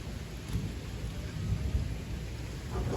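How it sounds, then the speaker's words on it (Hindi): Heavy rain pours down steadily in a Canadian thunderstorm while low rumbling thunder rolls through, loud and close, with no talking. "बादल गरज गरज रहे हैं, बरस रहे हैं"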